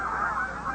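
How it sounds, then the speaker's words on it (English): A flock of geese honks in a steady overlapping chorus, moderately distant, with no speech over it. "Look at the geese."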